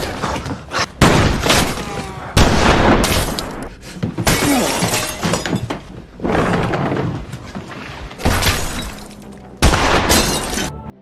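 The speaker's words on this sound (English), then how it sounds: "shortly afterward, several shots were heard, which turned out to be from Dugan" Several loud gunshots from Dugan's gun in a film scene, sharp bursts in clusters with crashing and shattering, separated by brief gaps and repeated over about eleven seconds.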